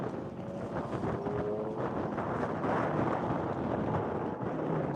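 Strong wind buffets the microphone at a high plains racetrack, a continuous rough, rumbling roar that stays steady and fairly loud throughout, with no voices.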